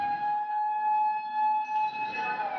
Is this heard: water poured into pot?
no